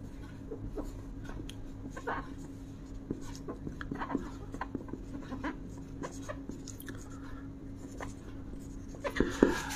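Pen or marker writing out the name of the Brønsted–Lowry acid-base theory by hand during a chemistry lesson, a run of soft scratchy strokes over a steady low hum, fairly close and faint.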